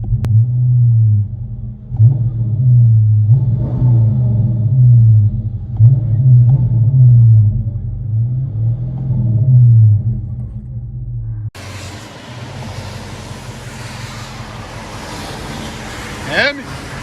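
Dodge Charger R/T with a 5.7L Hemi, heard from inside the cabin: a deep low exhaust drone pulsing in waves of rising revs, then cutting to a noisier, rougher rumble with wind-like hiss.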